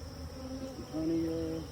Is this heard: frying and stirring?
no